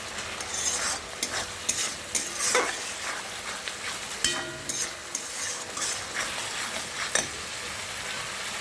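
A spoon stirs spicy masala sizzling in hot oil together with fried pointed gourd and potatoes. Scraping strokes come in an uneven rhythm over a soft, continuous frying crackle, close by and with no voices.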